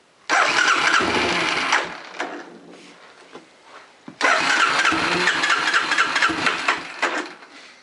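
A Honda Big Red 250ES engine cranks over nearby in two long, loud starter bursts with a quieter pause between them. The engine sputters without settling into a run, and no one speaks.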